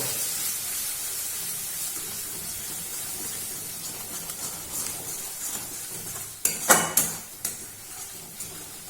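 Egg and spice masala stir-fried in a pan for a bean curry, a soft continuous sizzle and hiss, broken near the end by a few louder scraping stirs.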